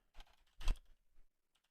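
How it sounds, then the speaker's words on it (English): A few quick keystrokes on a computer keyboard, two soft taps followed by a sharper louder click and a couple of faint presses, close and quiet. "Let me see what happens when I type in"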